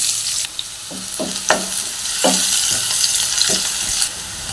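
Onions hissing and frying with cumin seeds in a hot pan for misal bhaji, a steady close sizzle broken by several sharp scraping stirs of a spatula, with no talking.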